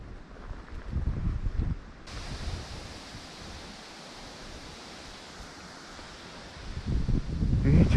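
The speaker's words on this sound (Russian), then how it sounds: "Ветер, ветер, ты могуч" Strong wind beside a river during fly fishing, a broad rushing roar that buffets the microphone in louder bursts at the start and end.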